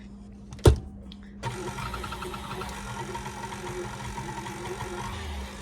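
A stand mixer with a whisk attachment beats frosting for cinnamon rolls: a sharp knock, then a steady, close motor whir that starts abruptly and runs evenly to the end.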